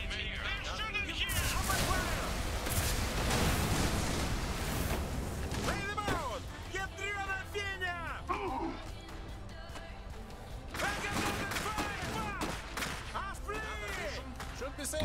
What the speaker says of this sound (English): They're shooting here!